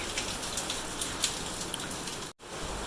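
Steady rain falling on a surface, dense patter with a few louder drops, interrupted by a brief dropout before resuming.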